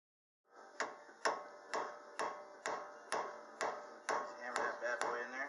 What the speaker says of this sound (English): Just hammer that bad boy in there.